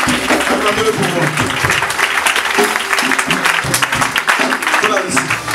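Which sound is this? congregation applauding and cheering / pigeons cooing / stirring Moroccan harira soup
congregation applauding and cheering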